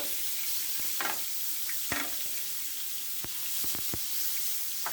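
Pork chops sizzling in a grill pan, a steady close hiss of frying with a few sharp clacks and scrapes from handling, no talking.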